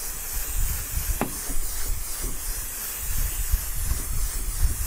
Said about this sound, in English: You just mist them until they're kind of wet